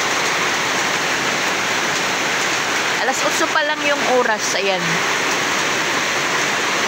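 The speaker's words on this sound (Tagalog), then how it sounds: "Bumuhos na naman po yung ulan." Dense, steady hiss of heavy rain pouring down throughout, with a person speaking briefly over it midway.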